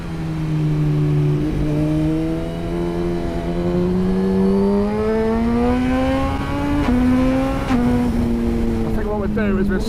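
A Suzuki GSX-R motorcycle engine pulls hard under acceleration while being ridden, its loud, steady note climbing in pitch with a brief shift partway through, set against continuous wind rush.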